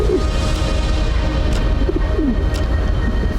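A pigeon coos in soft, rising and falling notes over a steady low rumble inside a snowy Himalayan cave, with a couple of faint thuds in between.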